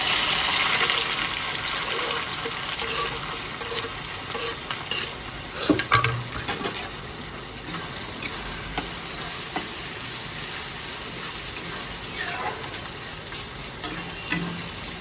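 Chopped onion fries and sizzles in a hot pan for a Bengali apple chicken dish, a steady loud crackling hiss broken by occasional stirring scrapes and clatters, with no talk.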